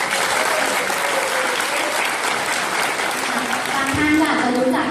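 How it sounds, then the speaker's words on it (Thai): Loud, dense audience applause at a business event on stage, a sustained wash of clapping that holds steady and swells slightly toward the end. "ขอเสียงปรบมือดังๆ"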